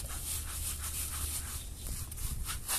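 Steady scrubbing with coconut soap, a continuous broadband rubbing that runs close and loud for the whole stretch with small surges, alone with no talk.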